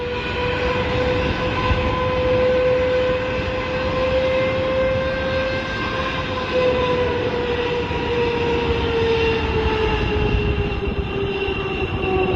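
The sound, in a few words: Boeing 777 jet blast blowing over a trailer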